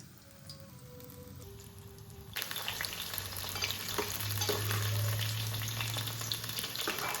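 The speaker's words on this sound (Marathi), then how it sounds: "ते इथं सोयाबीन मी फ्राय करायला घेतल्यात कोट करून" Coated soybean chunks fry in a pan with a steady, dense sizzle that swells louder partway through, with occasional stirring scrapes and no talking.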